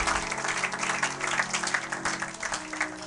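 A church congregation applauding, a dense patter of many hands clapping together at steady volume under a sustained background tone.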